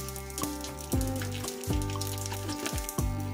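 Whole cumin and black mustard seeds frying in hot oil for a Rajasthani vegetable dal, giving a steady crackling sizzle broken by sharp pops and clinks of a utensil against the pan.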